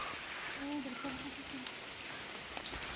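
Steady rain falls on a building site in the Philippines as a soft, even hiss with scattered drips, while a person speaks quietly under it.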